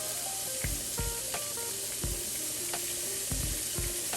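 Shrimp sizzle in a frying pan with a steady frying hiss, broken by several clinks and scrapes of a utensil against the pan.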